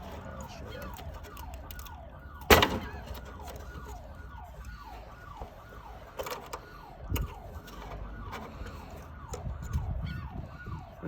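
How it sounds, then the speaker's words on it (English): A wailing siren cycles up and down repeatedly in the background, steady and moderately distant, with a few sharp knocks and bumps nearby. "That siren is annoying."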